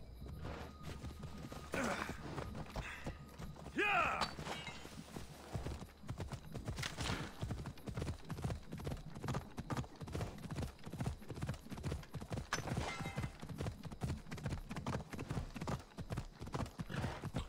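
Horse hooves clip-clopping in a video game, a quick steady rhythm of hoofbeats near and fairly faint, with a brief snort or neigh early on and some sparse background game sounds.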